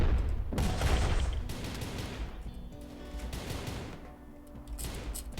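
Gunfire crackles in a Rimworld Armageddon Steel Legion battle against orcs, a loud burst of rapid shots up front followed by scattered, fainter volleys and a final cluster of cracks.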